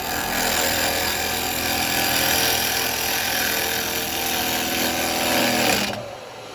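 A wood lathe turns a natural-edge bowl blank cut from firewood while a carbide chisel cuts it, giving a steady, loud whirring and scraping drone that cuts off abruptly near the end as the spinning slows.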